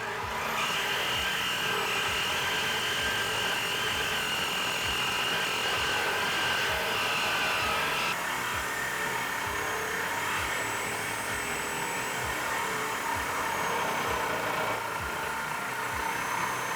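A power tool saws through the stock exhaust pipe of a 2018-2020 Mustang GT, a steady high-pitched whine that holds tone, then shifts pitch midway through the cut, heard alone without talk.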